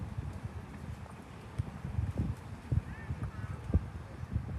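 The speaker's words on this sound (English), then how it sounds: "And the wind gusting here to and fro is not helping." Gusting wind buffeting outdoors, a low rumbling rush with uneven thumps, with people talking faintly underneath.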